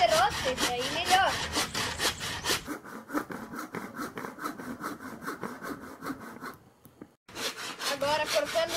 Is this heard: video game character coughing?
no